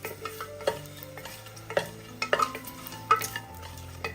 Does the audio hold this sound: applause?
no